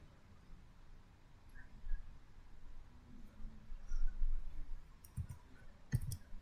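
Keyboard typing while entering a router's IP address for a network routing setup: a few faint, quiet key clicks, sparse at first, then a short cluster of sharper taps near the end, with no talking.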